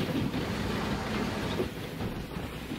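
A train rolls along the rails in the mining game Gold Mining Simulator, giving a steady, dense rumble with faint clattering that holds at an even level for a few seconds.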